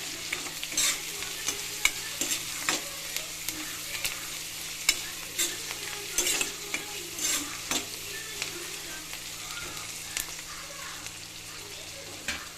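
Chicken curry with a light sprinkle of salt is stirred in a pan, a steady soft sizzle under repeated scraping and clinking strokes of the spoon at close range, with no talk.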